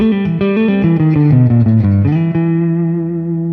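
A PRS Chesapeake Bay Bridge electric guitar, overdriven through a Fender Twin Reverb tube amp, plays a run of crunchy notes, then lets a final chord ring out and slowly fade.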